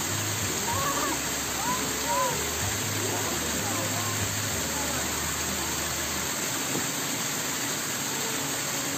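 Steady rushing roar of a waterfall in a forest, continuous and loud, with faint voices and a low hum in the background.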